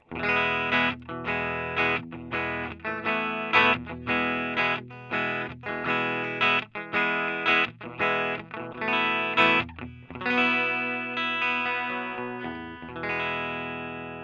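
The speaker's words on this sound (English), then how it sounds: "First, just the clean tone, no effects on it." Clean electric guitar through a single-speaker Roland Jazz Chorus amp with no effects, a run of strummed chords in a steady rhythm that ends on a long ringing sustained chord.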